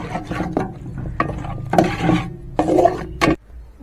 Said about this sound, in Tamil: இப்போ நம்ம வந்து இஞ்சி போட்டுட்டு கரெக்டாக ஒரு 30 செகண்ட்ஸுக்கு ஒரு நிமிஷம் கூட வதங்கட்டும்